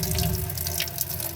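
An RV kitchen sink faucet in a 2010 Roadtrek runs steadily off the onboard water pump, a continuous close splashing hiss of water into the basin with no talk over it.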